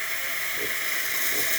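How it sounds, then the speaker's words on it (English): Breville espresso machine steam wand hissing steadily up close, a continuous bright broadband hiss that holds even for under two seconds with no talking. "the steamer will start producing steam"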